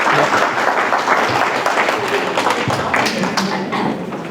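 Steady crowd applause in a seminar hall greeting a psychiatrist lecturer, many hands clapping at once in a thick, even wash with a few nearer taps and thumps mixed in.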